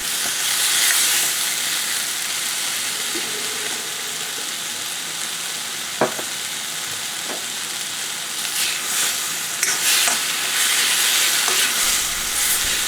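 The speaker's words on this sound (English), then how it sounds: "Add a little bit of water to help mix the spices together and just help stop them burning." Spices sizzle and fry in a hot pan on a domestic hob at high heat after a splash of water, a steady hissing crackle for kadai paneer with a few sharp spoon-scrape stirs and bursts of steam.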